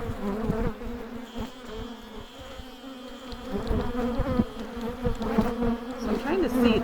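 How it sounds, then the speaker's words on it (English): A dense swarm of honeybees buzzes inside an open hive, a loud continuous humming drone that swells and shifts in pitch, heard up close. "there's so many bees in here"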